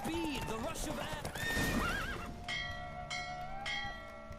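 A horse in The Witcher 3 gallops with quick clip-clop hoofbeats and whinnies, mixed with game music and ringing bell-like tones, while voices talk over it.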